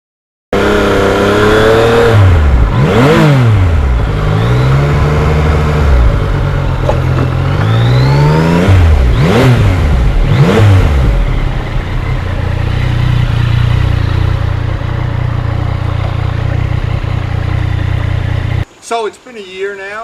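A 2020 Yamaha MT-09 motorcycle revs hard while riding, its engine pitch sweeping up and down through repeated gear changes, loud and close with wind rush, then steady cruising before it cuts off.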